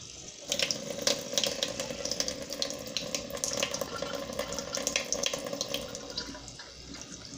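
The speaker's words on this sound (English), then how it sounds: "rinse again with the water." Tap water runs steadily into a sink while goalkeeper gloves are rinsed, a continuous close hiss of flowing water with splashy spatters and brief clatters throughout, no talking.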